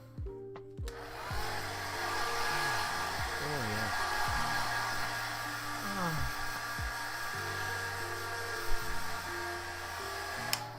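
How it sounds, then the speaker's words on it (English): A hair dryer whirs loudly and continuously, its pitch shifting as it's moved, while a person makes brief remarks over it. "Just what you need, a hairdryer noise in the morning."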